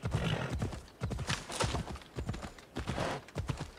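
In Assassin's Creed Odyssey, a horse's hooves clip-clop in a steady, fast rhythm as the rider crosses a bridge. The hoofbeats are loud and close and carry on throughout with no speech.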